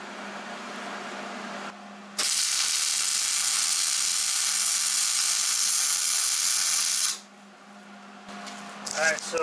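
Steel control arm brackets being welded onto a Dana 30 axle truss give a loud, steady crackling buzz for several seconds, starting and stopping abruptly, with quieter shop noise before and after.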